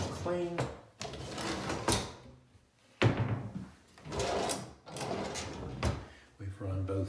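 Bathroom vanity drawers slide open and shut several times, giving wooden knocks and rubbing scrapes, while a person talks over the handling nearby.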